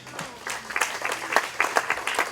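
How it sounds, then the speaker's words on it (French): Brief burst of crowd applause at an outdoor Saint-Laurent patron saint's festival in Saint-Laurent-du-Var, scattered claps building into a steady patter for a couple of seconds. "qu'on l'applaudisse."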